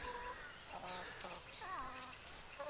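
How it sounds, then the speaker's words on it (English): Soft clucking and calls from a backyard flock of about 14 chickens and a rooster in a temporary electrically fenced area, faint and intermittent, with a voice talking nearby. "So we've got a rooster now. So that's our rooster."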